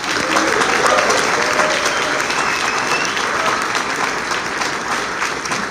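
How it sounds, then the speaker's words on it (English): Concert audience applauding a drummer after a winter storm concert performance, loud, dense clapping from a large crowd that stays strong for nearly six seconds with a little vocal murmur mixed in. "I think an extra round of applause for Khalil."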